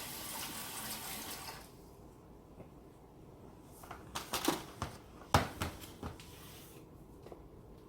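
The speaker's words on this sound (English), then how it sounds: "I got to rinse my hands off." Water from a kitchen tap runs in a steady rush while hands are rinsed mid-cooking, followed by a few sharper splashes and clatters near the end; no one speaks.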